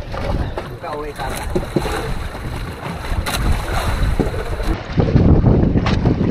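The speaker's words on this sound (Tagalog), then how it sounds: "Hinahampas na kami ng alon." Strong waves slap and surge against a small boat at sea, a rough, churning wash with wind buffeting the microphone, building louder toward the end while a voice speaks briefly in the background.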